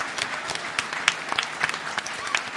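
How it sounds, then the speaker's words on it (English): A convention crowd at a fan gathering gives a brief round of applause for attendees who travelled from abroad, dense overlapping claps steady throughout with a few louder hands standing out near the front. "So just a quick round of applause for all the people who came here."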